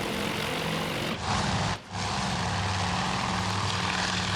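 Droning WWII propeller aircraft engines of a strike group with torpedo bombers in a Coral Sea battle video game, a steady, loud, continuous roar with a brief dip partway through.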